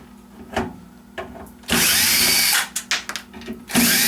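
A power drill backs screws out of a microwave oven being scrapped: short whirring bursts followed by a longer close loud spin, then more stop-start trigger pulls, no speech.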